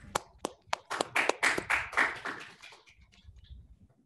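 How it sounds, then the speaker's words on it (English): A small group claps, starting with a few scattered claps, building into brief, close applause, then tapering off quickly. "a round of applause, please, ladies and gentlemen, for Miss Kathy Kampa."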